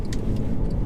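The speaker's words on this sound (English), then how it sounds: "It's like this guttural, thunderous V8." A 2013 Mercedes C63 V8 gives a deep, steady, rumbling roar as it accelerates, heard briefly and alone.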